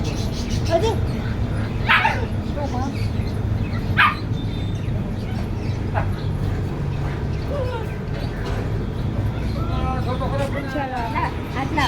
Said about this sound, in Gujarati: આવું છે ડોગી